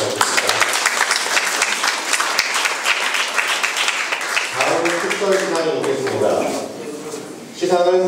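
Audience applause fills the room at a pastel painting association award ceremony during a gallery opening, with dense, steady clapping that later gives way to voices talking.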